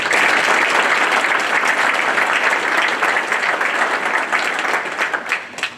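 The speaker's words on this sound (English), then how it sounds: "Round of applause." An audience at an Army Corps of Engineers district change of command ceremony gives a loud, sustained round of applause that fades slightly toward the end.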